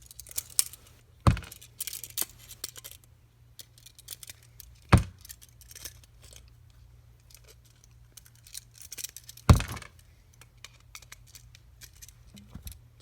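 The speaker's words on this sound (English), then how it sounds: "Lineman's, you can go like this, cut them off" Sharp metallic snips of lineman's pliers cutting the mounting ears off an electrical outlet, three distinct clicks spaced a few seconds apart, close and alone over a low hum.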